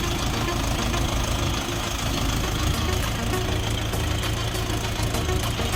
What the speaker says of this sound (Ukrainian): Тракторець 4-циліндровий, 35 кінських сил.